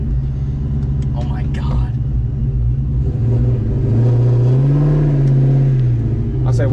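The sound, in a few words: New Edge Ford Mustang engine starting and revving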